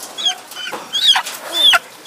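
A farmyard hen clucks nearby in a few short, sharp bursts with brief quiet gaps between them, and no voices are heard.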